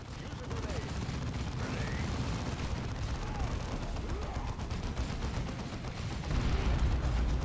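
Bombs going off in the Dawn of War 2 strategy game, a dense continuous rumble of blasts and gunfire at steady loudness, swelling slightly toward the end.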